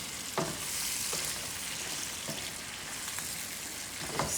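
Peppers and tomatoes sizzle steadily in a frying pan while a utensil stirs them, with a few distinct scraping strokes spaced through the continuous hiss.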